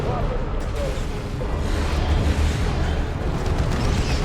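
Leman Russ tank cannon shells strike in a Dawn of War II battle, giving dense rolling booms and crashing impacts layered over constant battlefield rumble, loud and sustained across the whole stretch.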